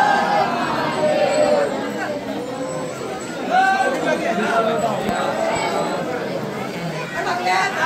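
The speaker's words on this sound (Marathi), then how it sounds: "तुम्ही बघू शकताय खूप गर्दी आहे." A large weekend crowd chatters at a temple with a steady, dense murmur of many overlapping voices close around, with no single voice standing out, on a rainy day.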